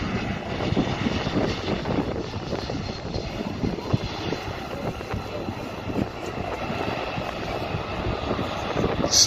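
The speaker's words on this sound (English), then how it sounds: "Spoilers are up, the thrust reversers are engaged" A C-5M Super Galaxy military transport lands at an air show, its thrust reversers and spoilers deployed for a short stop. A loud, steady, broadband jet roar runs throughout.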